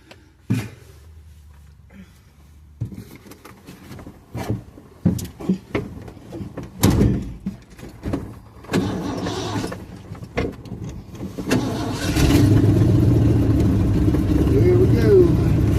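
A truck door shuts and a truck engine cranks and starts, settling into a steady idling rumble, following several knocks and movements inside the cab, with people talking intermittently.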